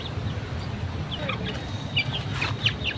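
Chickens on a poultry farm keeping ducks and chickens cluck in short, soft bursts over a steady, quiet background hum.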